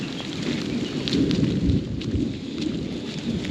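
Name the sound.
heavy rain during a thunderstorm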